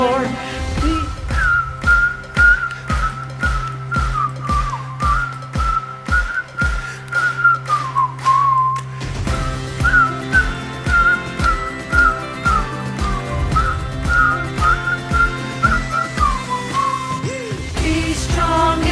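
People whistle a cheerful song melody together at a virtual Vacation Bible School, the tune running continuously over a rhythmic musical backing.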